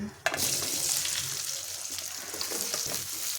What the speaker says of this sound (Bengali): এখন এর মধ্যে আমলকিগুলো দিয়ে দিচ্ছি